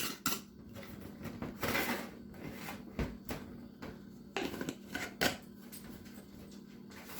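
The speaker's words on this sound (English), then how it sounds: "And then you just put your lid down." A lid clatters onto a container, several close clinks and knocks in an uneven series, with faint handling sounds in between.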